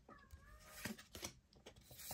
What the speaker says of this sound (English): You can probably hear the cat on the camera.